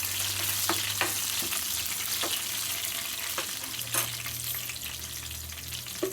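Garlic, ginger and spices with turmeric frying in hot oil as tempering for tomato rasam, a steady close sizzle with a few sharper crackles and stirring sounds throughout.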